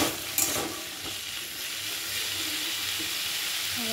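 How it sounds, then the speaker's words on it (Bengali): Potatoes fry in hot oil with nigella seeds in a wok, giving off a steady, loud hiss and sizzle after a sharp burst as they hit the pan, with faint stirring scrapes and no talk. "এবার আমি কড়াইতে দিয়ে দিলাম পেঁয়াজকালি আলু ভাজাটা।"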